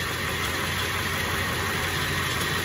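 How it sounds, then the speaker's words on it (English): A 7.3L Powerstroke turbo diesel on a Jerr Dan rollback truck idles with the PTO engaged, giving a steady, close, rough broadband rumble with a constant high whine running over it. "I'm gonna go ahead and engage the PTO so I can show you how the bed works."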